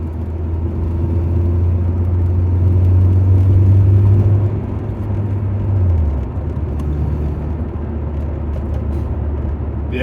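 A Mk2 VW Golf GTI with a 2.0 8v engine drives along a road in a steady, loud, low engine drone that rises slightly in pitch and then drops as it changes gear, with no talk.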